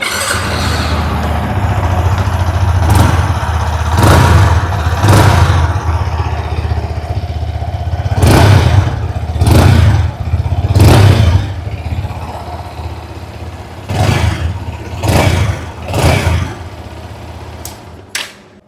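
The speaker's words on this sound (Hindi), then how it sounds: "आइए अब सुन लेते हैं इस बाइक की एग्जॉस्ट नोट" A Yamaha XSR 155 motorcycle engine idles with a steady low rumble, then is revved in several sharp bursts, the exhaust note rising and falling repeatedly, close by.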